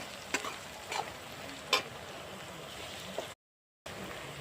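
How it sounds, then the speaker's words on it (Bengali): Onions frying in oil for chicken kosha at a family winter picnic, a soft continuous sizzle broken by a few sharp stirring scrapes, then a brief cut to silence before the frying resumes. "পেঁয়াজটা ভাজা হয়ে এসছে"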